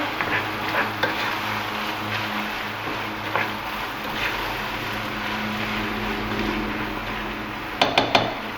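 Corn being stirred into chilli con carne in a pot, a steady scraping and mixing with soft bubbling underneath and a few sharp clinks of the utensil near the end.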